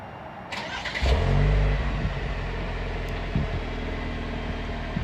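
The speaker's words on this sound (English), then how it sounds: "This is what it sounds like when it is turned on." A car with its stock exhaust starts up and settles into a steady idle, a brief rising burst at ignition followed by an even low rumble, close and alone without talk.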